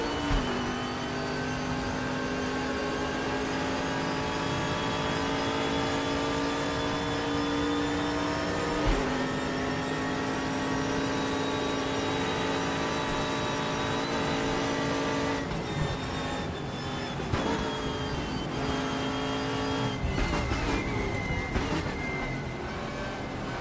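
GTR race car in a sim racing game, its engine droning steadily at high revs with harmonic whine, gear shifts around nine and twenty seconds, and a busier rattling stretch late on.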